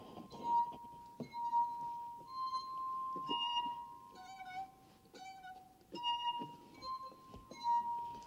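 Water-filled drinking glasses of different shapes, water depths and wall thicknesses are struck in turn, each giving a clear bell-like ringing tone with shimmering overtones, a few pitches repeated in an irregular sequence with some light clinks.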